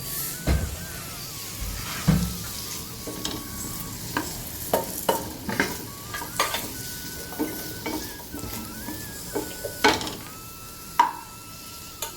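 Peeled chayote (chow chow) pieces sauté in groundnut oil in a pan, a continuous soft sizzle broken by repeated sharp scrapes and clinks of a spoon stirring, with faint squeaks in the background.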